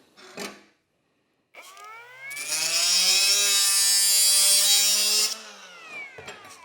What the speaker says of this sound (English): You're not supposed to cut brass with these, but I always do it anyways.